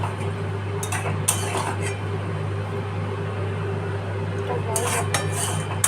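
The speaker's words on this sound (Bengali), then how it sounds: "তার আগে মাটনটা একটু ভালো করে নাড়িয়ে কষিয়ে নেব।" Mutton is stirred and fried in a pot over a steady low hum, with a few metallic clanks of the spoon against the pot in short clusters, close and moderately loud.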